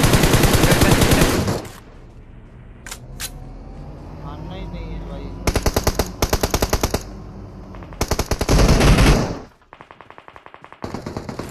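Mobile battle royale BGMI gunfire: rapid bursts of automatic fire in several loud clusters, with stretches of quieter ambience and game sounds between them and a voice talking over it.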